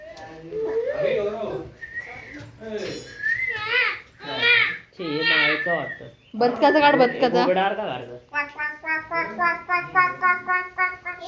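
Children's voices play around, and one voice imitates a parrot with a run of high, chirpy, quickly repeated squawks near the end, close and fairly loud.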